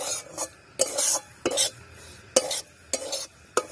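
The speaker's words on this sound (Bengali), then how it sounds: "আর এইভাবে কিন্তু নাড়তে থাকতে হবে" Semolina is stirred as it fries in a pan for halwa: about six rhythmic scraping strokes of a spoon against the pan, each a brief gritty swish over a quiet sizzle.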